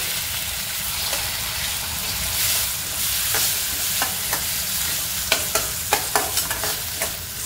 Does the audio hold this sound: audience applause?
no